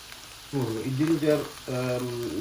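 Mustard seeds, cumin and fennel hit hot oil, and there are two bursts of frying with a harmonic squeal over a soft background sizzle.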